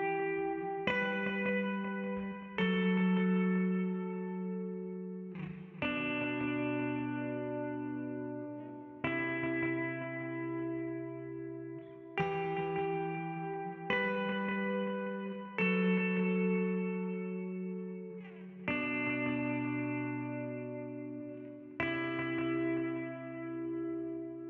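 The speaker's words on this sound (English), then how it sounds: "for the second verse, you're going to have a bit of reverb and a bit of delay on" Electric guitar strumming sustained chords one after another, each ringing out with reverb and a trailing delay, played alone.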